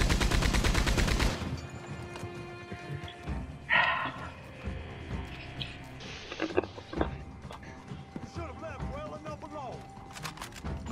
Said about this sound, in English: I can't even see who she's shooting at now.